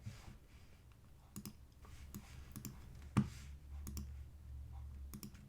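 Computer mouse clicks while copying and pasting a URL, a sparse series of quiet, crisp clicks scattered over a faint background hum, with one sharper click near the middle.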